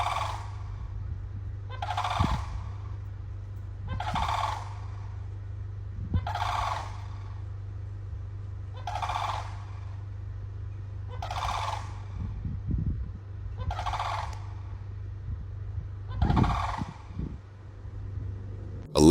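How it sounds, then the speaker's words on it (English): Turkey-like birds gobble in a steady series of about eight loud calls spaced roughly two seconds apart, over a constant low rumble of traffic or machinery. "Even the birds is warning people."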